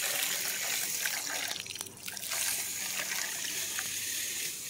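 Water trickling and splashing steadily from a tap or container at a garden setting, a continuous close hiss with a brief dip partway through, no talking.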